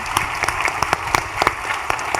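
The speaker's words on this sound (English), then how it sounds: "Let's show them our appreciation with a round of applause." A seminar audience applauds a panel on strategic trade management, a modest, fairly sparse round of clapping in which individual claps stand out against the overall patter.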